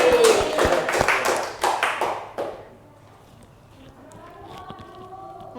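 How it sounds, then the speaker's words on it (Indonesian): A small group in a classroom microteaching session claps in quick, sharp, ragged bursts for about two seconds, then the room falls quiet apart from faint background sounds. "Tepuk tangan buat kita semuanya"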